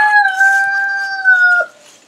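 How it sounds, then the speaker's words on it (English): A rooster on a poultry farm crows once, a loud, drawn-out, steady call lasting well over a second that ends in a brief break, close by and heard alone. "And you can tell right now we have a few roosters."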